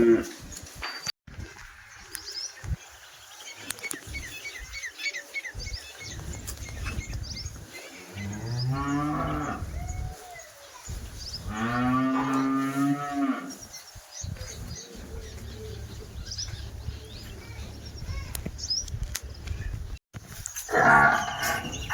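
Cows at a cattle market in Banaskantha, Gujarat, moo in several long, deep calls at moderate distance, with people talking and faint birds chirping in the background.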